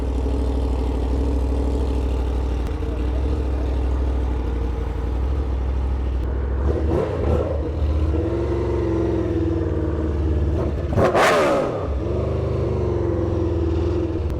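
A steady, loud idle from an XTrenta car warming up after a cold start, the engine's even rumble holding close by with a couple of brief clattering bursts and a short blip partway through.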